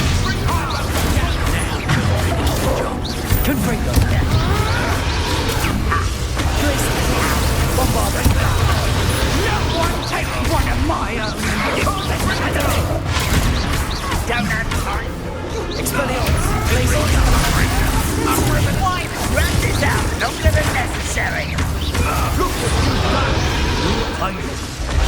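Spell casting and explosions in the Hogwarts Legacy video game: repeated crashes, bursts and whooshes fill a loud, dense mix, with a voice calling out spell names throughout.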